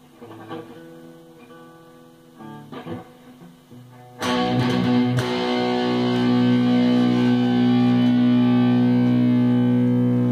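Distorted electric guitar: a few short picked notes, then a heavy chord struck and left to ring out, thick and saturated with a long sustain.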